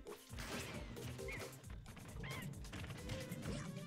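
Heavy smash impacts from forward smash attacks land in a competitive fighting video game match, loud crunching hits over a dense game mix, with a brief voice near the start.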